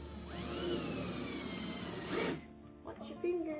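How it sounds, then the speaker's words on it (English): A power drill fitted with a star bit drives GRK star-head screws into a wooden dresser base, a steady whirring motor rising in pitch as it runs, then stopping, with people talking nearby. "They've got a star head, so we got to use a star drill bit for these."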